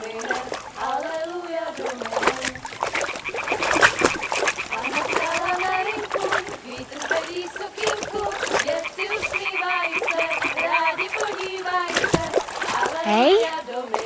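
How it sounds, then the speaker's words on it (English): A thrown stone splashes into water in Kingdom Come: Deliverance 2, set against steady croaking frogs and chirping birds, with game voices talking over the ambience. "Throw a stone in the water near her to lure her away."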